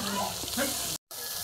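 Spice pastes for prawn curry, ginger, onion and garlic, being stirred in a hot pan: a brief close sizzle with scraping, cut by a short silent gap before resuming.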